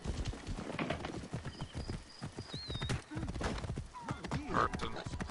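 Horse galloping in the video game Assassin's Creed Origins, rapid rhythmic clip-clop hoofbeats with an occasional whinny, steady and fairly close, continuing under a talking voice.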